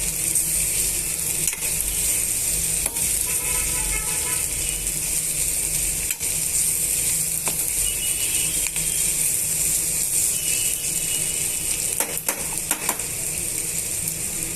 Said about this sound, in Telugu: పసుపు వేయటం వల్ల ఆనియన్ ముక్కలు బాగా ఇంకా బాగా వేగ వేస్తాయండి